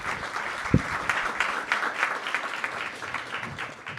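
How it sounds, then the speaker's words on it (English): An audience at a European business and biodiversity summit session applauds the panelists, a steady, moderately distant wash of many hands clapping that slowly tapers off. "If we could get a round of applause for our panelists,"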